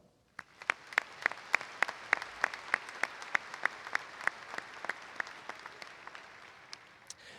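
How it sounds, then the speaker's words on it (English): Applause rises from the audience at a university commencement ceremony after a bachelor of science degree group is announced, a steady crowd wash punctuated by sharp individual claps, continuous and moderately loud before tapering near the end. "Again, applause."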